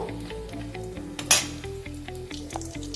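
Metal utensils clink and scrape against a pan in a steady stirring rhythm while tempering chillies and whole cumin for a paneer dish, with a brief louder clatter midway, over soft background music.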